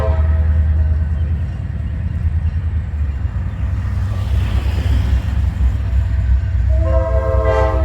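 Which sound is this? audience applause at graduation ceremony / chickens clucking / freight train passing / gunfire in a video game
freight train passing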